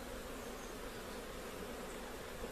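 Honey bees swarm around a beehive, producing a faint, steady buzzing hum that carries on without a break and with no voices.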